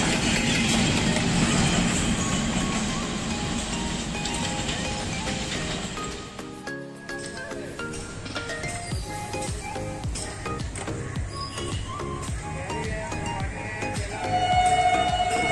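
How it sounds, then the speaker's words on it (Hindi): A Bahauddin Zakariya Express train hauled by an HGMU 30 locomotive passes a level crossing, a loud continuous rumble of wheels and carriages with rhythmic clatter and a brief dip midway before the roar resumes. "HGMU 30 के साथ HGMU 30 बाउद्दीन ज़करिया एक्सप्रेस को लीड करते हुए।"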